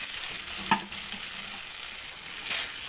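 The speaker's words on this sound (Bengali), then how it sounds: "আলুর সঙ্গে মশলাটা ভালো করে মিশিয়ে নিচ্ছি" Fried potatoes stirred into cooked spice paste in a pan for a Bengali puti fish dish, giving a soft steady sizzle with one sharp scrape of the spoon early on.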